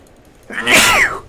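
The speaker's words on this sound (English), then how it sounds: "That was almost a painful sneeze" A single loud, close sneeze bursts out after a quiet moment, a sharp explosive exhale with a brief tonal edge that quickly fades.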